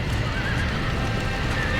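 A horse in the Red Dead Redemption western video game, with dense clip-clop of hooves and whinnying in a continuous loud rumble of gameplay sound.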